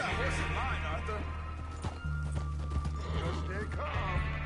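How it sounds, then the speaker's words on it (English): Horse hooves clip-clopping steadily in Red Dead Redemption 2, with steady mid-distance hoofbeats under continuous speech and ambient game sound. "Get that horse in line, Arthur."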